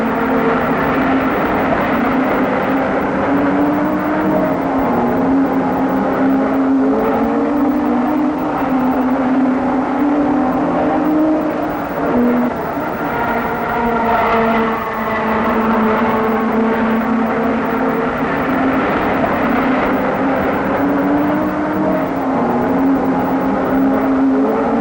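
Lotus 32B open-wheel race cars at Warwick Farm in 1965, engines droning steadily and loud throughout with shifting pitch as cars pass, continuous racing noise without talk.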